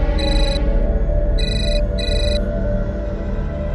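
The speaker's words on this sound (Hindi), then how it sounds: "मम्मी, मामा जी का फोन आया।" A mobile phone ringtone plays in bursts, with a bright electronic tone repeating three times over a loud, busy background of indoor noise.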